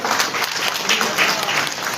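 Enthusiastic applause from a gathered audience at an honoring ceremony, dense clapping sustained through the moment with a voice speaking over it.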